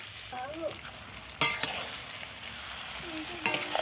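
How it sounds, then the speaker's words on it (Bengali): Elephant apple (chalta) being stirred in hot oil in a wok, with steady frying sizzle and a few sharp scraping clanks of the spatula against the pan. "চালটা কীভাবে তেলে নেড়ে নিচ্ছি দেখো, খুব ভালোভাবে নেড়ে নিতে হবে তেলে।"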